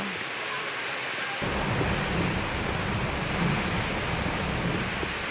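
Heavy typhoon rain pours down steadily with gusting wind roaring in Tuguegarao City, Philippines, loud and continuous, a deep rumble swelling in after the first second.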